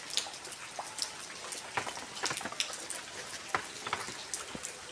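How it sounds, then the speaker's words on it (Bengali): Heavy rain falls with big drops splattering irregularly and close by in a courtyard, some landing as sharp distinct taps over a soft patter. "এখনও দেখো বড় বড় ফোঁটা পড়ছে"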